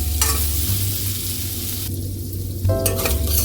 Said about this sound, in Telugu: పన్నీర్ వేగుతుంది